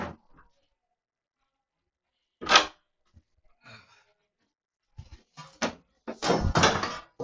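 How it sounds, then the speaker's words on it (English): A door is opened, giving a sharp click and knock followed by a louder rattling clatter near the end, with quiet gaps between the sounds. "I have to open the door."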